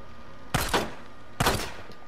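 Two sharp gunshots ring out in the game Days Gone, each a close, loud crack followed by a quick echoing tail, spaced just under a second apart.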